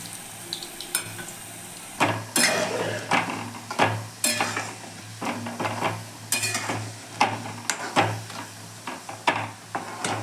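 Semolina sweets frying in hot oil, a steady close sizzle broken by repeated scraping and stirring clinks of a utensil against the pan, with no talking.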